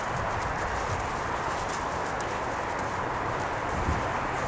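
A six-year-old rescued Andalusian mare walks with a steady clip-clop of hooves, close by and continuous over a constant broadband background hiss.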